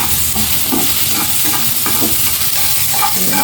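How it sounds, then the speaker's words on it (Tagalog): Onion sautéing in a pan in a home kitchen, a steady dense sizzle with scraping stir strokes running throughout, close and fairly loud. "I should saute the onion first"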